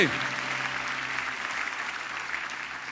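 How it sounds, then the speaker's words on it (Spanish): A church congregation applauds steadily during a sermon, a dense even wash of clapping that carries on throughout. "Denle un fuerte aplauso al Señor."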